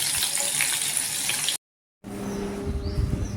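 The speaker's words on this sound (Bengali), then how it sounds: "এটা ততক্ষণ ভাজা হোক।" Turmeric-coated fish frying in a pan of oil, a steady close hiss and crackle that cuts out briefly to silence, then resumes with a lower bubbling sizzle.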